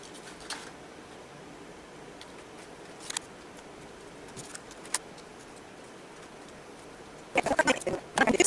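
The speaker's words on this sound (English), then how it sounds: "I'm going to cut out the cup and I'm going to cut out the spoon" Scissors snip paper while a small cup shape is cut from a notecard, sparse quiet clicks and crisp cuts at first, then a quick burst of several snips close to the microphone near the end.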